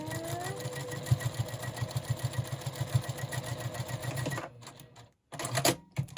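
A sewing machine stitches quilt seams in a fast, even mechanical rattle, close and steady for several seconds before stopping with a few short bursts.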